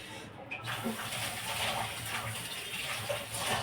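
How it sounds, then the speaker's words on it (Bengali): Hands washed under a running tap at a sink, water splashing steadily and fairly close for a few seconds, with a faint voice at times. "চলো আমি হাতটা ধুয়ে নিই"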